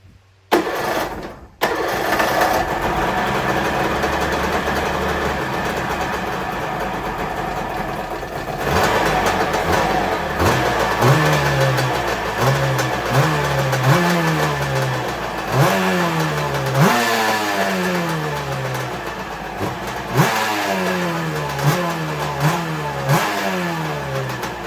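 A Kawasaki JS550sx two-stroke jet ski engine cranks, starts and idles up close, then revs in repeated rising and falling blips, loud and buzzy throughout.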